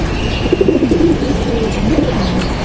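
A male khaki pigeon coos in a series of soft, low, throaty calls, close and clear over a steady background hum, with no one speaking.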